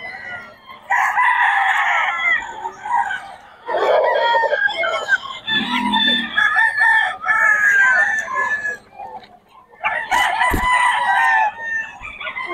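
Several gamefarm roosters crow one after another, loud and close, with clucking between the calls and short quiet gaps.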